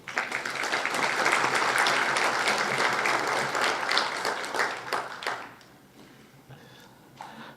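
An audience at an evening legal lecture on corruption and whistleblower protection gives loud, dense applause to welcome the speaker. It holds strongly for about five seconds, then thins out to a few scattered claps.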